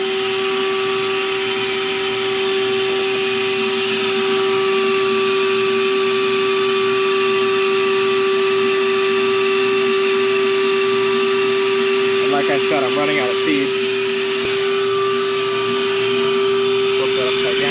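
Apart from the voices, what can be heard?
vacuum cleaner running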